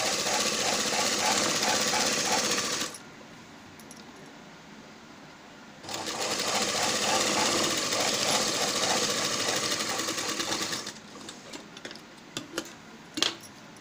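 Electric sewing machine stitching a pot-neck blouse, running in two sustained loud bursts of rapid rhythmic needle chatter separated by a quiet pause, then a few light clicks and taps of handling the fabric at the end.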